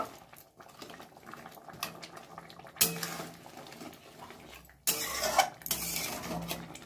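Crab pieces and softened potatoes being stirred in a cooking pot, with scraping and clattering of a spoon against metal over a bubbling simmer, louder bursts of stirring partway through and near the end.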